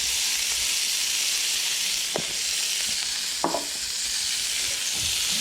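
Cheesesteak meat sizzles steadily on a hot Blackstone griddle, a loud, continuous frying hiss with a few soft scraping stir sounds, no voices.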